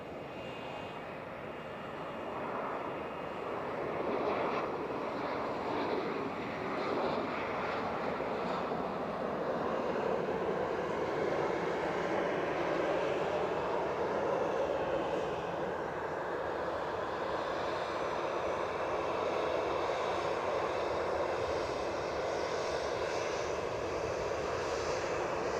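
Ryanair airliner passing at Edinburgh Airport, a broad, steady jet roar heard from some distance that swells gradually and holds for a long stretch with no speech.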